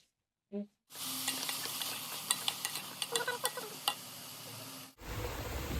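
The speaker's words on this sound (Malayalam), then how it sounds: "ഇതിൽ ഞാൻ ജിഞ്ചർ ഗാർലിക് പേസ്റ്റ്, തക്കാളി, ചില്ലിയും കൂടെ ഇട്ടിട്ട് ഞാൻ ഒന്നുകൂടെ വഴറ്റിയെടുക്കുന്നുണ്ട്" Ginger garlic paste, tomato and chili sautéing with onions in a pan for butter chicken, a steady sizzle with scraping stirs that cuts off abruptly near the end.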